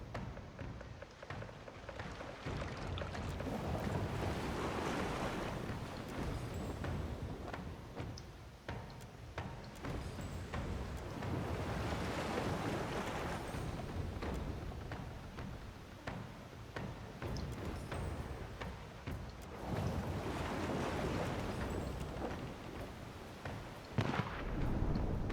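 A ship sails in the video game Pillars of Eternity II: Deadfire. Broad, rushing noise of waves and wind rises and falls in slow surges, mixed with crackling splashes throughout.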